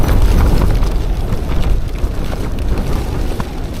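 Strong steady wind buffets a taut tent with tightened guy lines on a cold, wind-chilled day, a loud continuous low roar with gusty surges close to the fabric, no talking.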